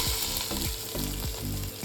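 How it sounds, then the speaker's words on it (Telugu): Ground masala paste sizzles steadily in hot oil in a kadai for an egg masala gravy curry, with a spoon stirring through it at a regular, roughly half-second rhythm. The frying is close and continuous, with no voices. "ఇప్పుడు కడాయిలో ఆయిల్ వేసుకొని మనం ముందుగా మిక్సీ పట్టిన పేస్ట్ని అందులో వేసుకొని మంచిగా కలుపుకోవాలి"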